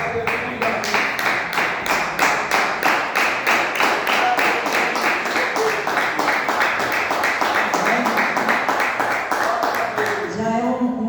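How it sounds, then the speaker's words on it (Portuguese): A church congregation claps in steady, evenly spaced unison to glorify the Lord, a long run of rhythmic beats with voices underneath that stops near the end. "glorificando ao Senhor com as palmas"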